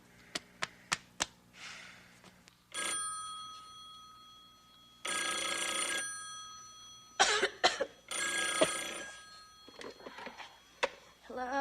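An old landline telephone rings in a 1980 soap opera scene, four sharp bell rings at the start, then later stretches of loud ringing with a cough and a voice speaking between them.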